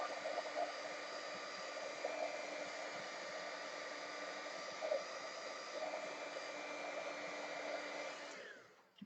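A heat embossing tool blows a steady stream of hot air at close range, a constant fan hum with a thin whine held for about eight seconds before it winds down and fades.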